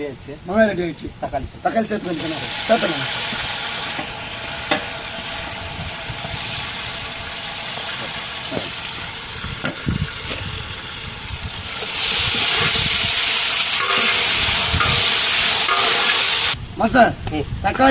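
Onions sautéing in a large pot for Ranipet-style chicken biryani, a steady broad sizzle and hiss that swells louder and brighter midway, with occasional stirring clatter and voices talking underneath.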